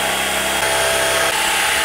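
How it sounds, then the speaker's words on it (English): A power drill bores 3/8-inch holes for fitting JL hood latches on a Jeep Wrangler JK. The whine is steady and close-up, running without a break for about two seconds. "he recommended drilling all of these to 3/8, including the two up top."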